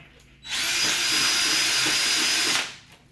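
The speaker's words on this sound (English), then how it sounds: "using the second drill, I'll be able to take all these burrs off" A power drill deburring metal whirs steadily at high speed for about two seconds, loud and close, then spins down, with no talking.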